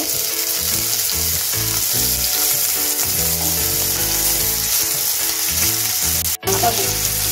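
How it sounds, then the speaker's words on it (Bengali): Onion fries in hot white oil in a pan, a loud, even sizzle that carries on without a break, with one sharp clatter near the end and no voices. "একটু হালকা গোল্ডেন করে ভেজে নেব"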